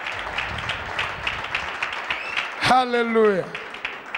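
A church congregation claps hands steadily at a healing testimony service, a dense wash of clapping running throughout, with a loud voice shouting over it partway through.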